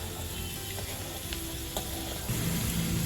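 Potatoes fry in a pan over a medium gas flame, giving a steady close sizzle with a few scrapes and taps of a spatula, with no talk.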